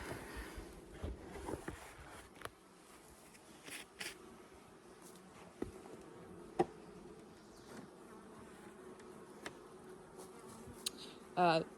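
Honey bees hum around an open hive while a honey super is placed over a queen excluder, a faint, steady drone with occasional soft knocks and clicks.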